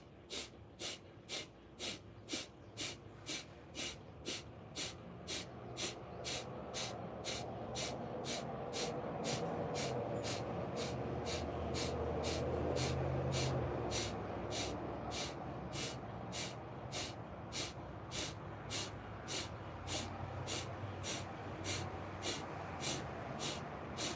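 Rapid, forceful pranayama breath of fire: a long run of sharp, evenly spaced nasal exhalations, dozens in a row at a steady fast rhythm, close and clear over a faint low background hum.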